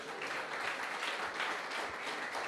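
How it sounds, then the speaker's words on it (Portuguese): Congregation applauding in church, a continuous even roar of clapping hands filling the space without a break. "dá um glória a Deus e aplauda o Senhor aí no seu lugar"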